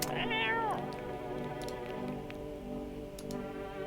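A cat meows in the video game No, I'm Not a Human, giving one clear, close, descending meow near the start over a steady ambient music bed, followed by faint ticking.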